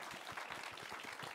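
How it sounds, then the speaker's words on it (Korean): Audience applause at a film directors' awards ceremony: a dense, steady wash of many hands clapping, heard faintly from a distance with no voices on top. "큰 박수 부탁드릴게요"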